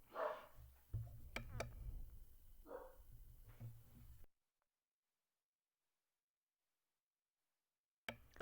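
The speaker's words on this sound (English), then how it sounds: "my dog is barking in the background" A dog barks a few times at a distance, partly under a person talking, then everything cuts to silence.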